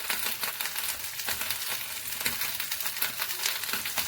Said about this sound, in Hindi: सभी चीज़ों को मिला के हम अच्छे से मिक्स कर लेंगे